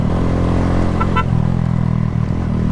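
A motorcycle engine drones loud and close in a steady revving roar while riding out for wheelies, with a brief clatter and a slight dip in pitch near the end.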